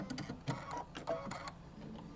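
A Brother embroidery machine stitching out a design, rapid rhythmic needle clatter and motor whir in quick repeating pulses, close and fairly loud with no talking.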